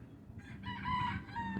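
A rooster crows once, a strained rising-and-falling call over a low background hum, moderately loud and nearby.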